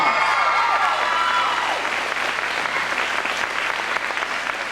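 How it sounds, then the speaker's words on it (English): An audience at a dinner theater applauds in a sustained burst of dense clapping from start to end, fairly loud and full, easing off slightly toward the close with no talking over it. "Let's give them another big round of applause."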